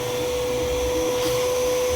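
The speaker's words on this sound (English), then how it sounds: "I'll take my vacuum cleaner and suck up some of the debris" A vacuum cleaner sucks up debris around broken-off studs and bolts, running steadily and loudly up close, a constant whining motor roar with a high tonal hum throughout.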